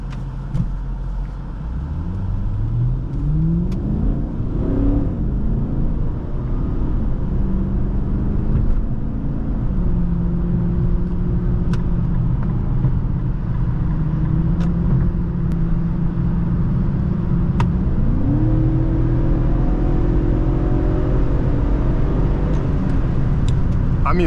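A 2008 Infiniti M45 V8 sedan accelerates hard on a test drive, heard from inside the cabin, its engine note rising through the gears with audible shifts over steady road rumble.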